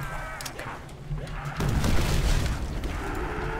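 A grenade blast in Call of Duty: World at War zombies mode hits about midway with a deep, booming low-end burst that lingers as rumbling noise over busy game sounds.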